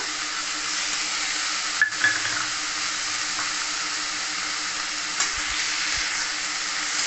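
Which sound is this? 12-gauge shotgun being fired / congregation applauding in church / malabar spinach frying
malabar spinach frying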